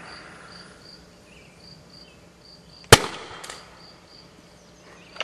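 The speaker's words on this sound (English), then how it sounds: "I put one inside the shorty launcher, and we're going to give it a shot" An airsoft shorty launcher fires a beanbag projectile grenade outdoors with one sharp loud pop midway, followed by a smaller clatter, over a constant background of chirping crickets.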